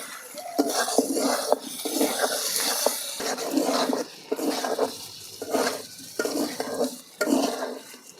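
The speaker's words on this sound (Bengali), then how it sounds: "একটু পর পর নাড়াচাড়া করে ভেজে নেব" Continuous sizzling of chicken frying in a karahi on a clay stove, with repeated scraping and stirring strokes, close and fairly loud, no talking.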